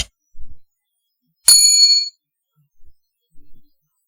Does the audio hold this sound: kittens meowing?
no